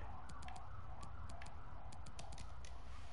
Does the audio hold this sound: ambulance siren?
yes